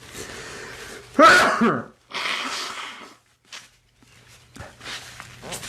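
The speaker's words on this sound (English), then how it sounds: "I'm sneezing here" A loud sneeze bursts out close by, followed by breathy sounds and a short cough-like exhale, with quiet stretches between.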